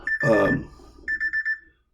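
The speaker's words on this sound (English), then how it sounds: "It's my feed the dogs alarm." Alarm clock set as a feed-the-dogs reminder, sounding a short series of bright electronic beeps near the end after a brief burst of a voice.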